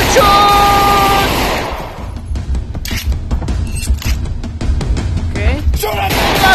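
Gunfire in the VR game Half-Life: Alyx: a rapid run of sharp shots in irregular bursts over a busy background, with a voice-like tone at the start.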